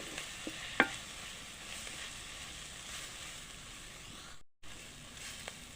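Dry fish tossed with tender tamarind leaves in a pan, giving a soft continuous sizzle with a few faint scrapes and clicks from a spoon, heard alone and at moderate distance.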